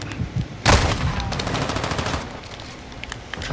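Rapid automatic gunfire from a video game shooter, a loud close burst followed by a steady rattling stream of shots that tapers off into scattered reports.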